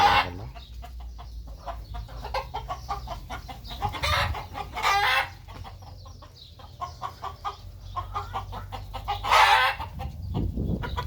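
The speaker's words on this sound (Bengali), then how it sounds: "দেখেন মুরগিগুলো মাসাল অনেক সুন্দর খুব সুন্দর মুরগি" Chickens in a backyard coop in Qatar cluck steadily throughout, with a few louder squawking bursts and a rooster-like call rising now and then, close by with no talking.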